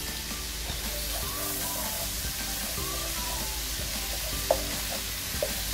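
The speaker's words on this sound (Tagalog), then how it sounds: "Ayan, halu-haluin lang natin." Garlic sizzles steadily in a pan as it is stirred, a soft crackling fry broken by a few light scraping knocks of the utensil, with no talk.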